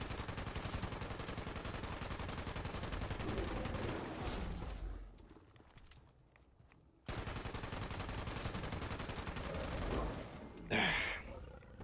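A black powder rifle fires in a video game amid dense, loud game action and gunfire. A sharp, sudden bang and burst come near the end, after a brief drop in level.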